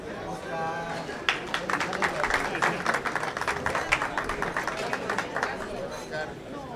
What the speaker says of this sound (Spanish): Fuerte el aplauso para el señor Oscar